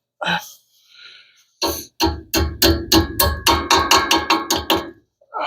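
A few isolated knocks, then a rapid run of about a dozen sharp hammer strikes in a steady rhythm, loud and close, during brake work on a 1975 Hemi Plymouth Duster.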